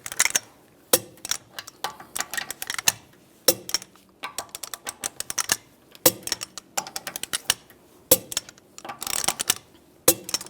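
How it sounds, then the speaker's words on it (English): Sharp metallic clicks and ratcheting bursts from a torque wrench tightening lug bolts in a cross pattern on a 1998-2010 Volkswagen Beetle wheel, coming in irregular clusters with short pauses between, close and fairly loud, with no talking. "Now we're going to torque these lug bolts to 89 foot-pounds in a cross pattern"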